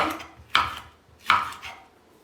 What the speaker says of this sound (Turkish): kırmızı ve yeşil kapya biberlerimi ince ince arkadaşlar doğradım. Jülyen şeklinde.